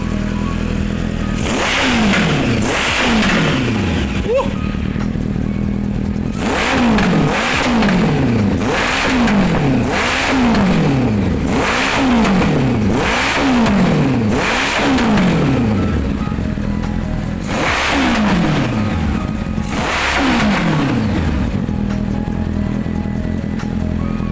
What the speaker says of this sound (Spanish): Tenemos esta aceleración y este fuego por el escape.